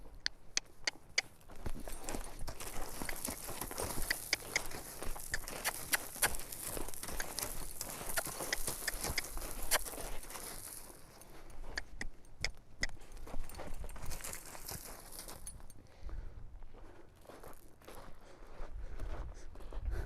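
Appaloosa horses walking on firm ground, their hooves clip-clopping in a steady, uneven rhythm at close range for about twenty seconds, with small jingles and rustles of tack mixed in and no talking.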